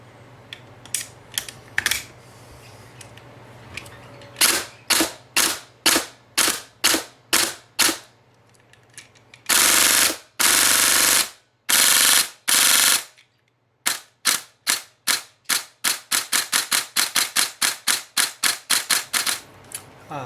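A VFC airsoft gun fitted with a WE Katana cylinder fires a sharp, snappy string of shots, first single shots and short bursts, then two longer full-auto bursts and a fast run of singles, loud and close.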